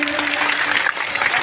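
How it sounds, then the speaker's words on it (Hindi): Loud crowd applause for a speaker at a tribal mass gathering at a religious fair, dense sustained clapping filling the whole moment with no pause. "एक बार जोरदार ताली हो जाए दादा के लिए"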